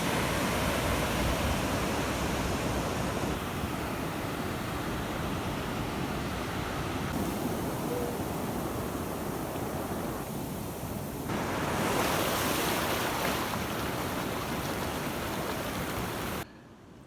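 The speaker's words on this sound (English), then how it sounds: "This is a beautiful, beautiful, beautiful beach." Ocean waves on a beach in El Salvador, a continuous loud wash of surf with gentle swells in intensity and some wind noise, cutting off abruptly near the end.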